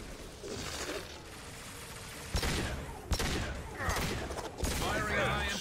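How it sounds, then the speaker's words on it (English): Mass Effect 2 high impact weapon shots, several loud sharp bursts at irregular intervals over dense game background noise and effects. "Firing a high impact shot."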